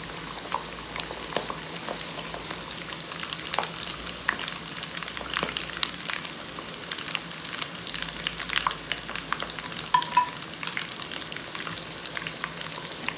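Crispy potato tacos fry in a pan with a soft, bubbling crackle and scattered pops, a gentle steady sizzle heard up close with no talking.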